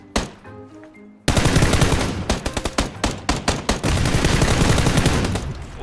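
Rapid automatic gunfire in the battle royale game PUBG erupts after a quiet moment, with repeated bursts of shots and overlapping volleys, loud and close, continuing steadily.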